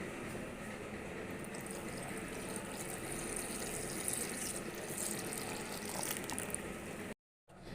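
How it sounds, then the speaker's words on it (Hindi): Half a kilo of milk pours into a blender jar holding fresh strawberries and powdered sugar, a continuous close splashing gush that runs steadily for several seconds before stopping abruptly, with no voices. "आधा किलो दूध डाल दूंगी"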